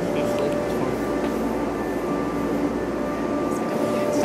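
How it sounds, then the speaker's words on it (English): A small airplane passes somewhere overhead, giving a steady, even engine drone that holds for the whole stretch at moderate loudness, with no clear rise or fade. "Oh, that's a little plane."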